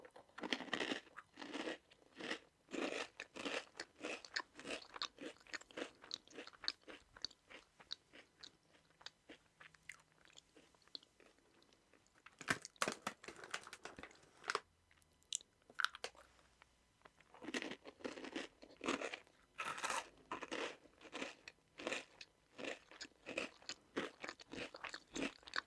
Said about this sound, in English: I'm gonna eat a few of these because they make a nice crunching sound.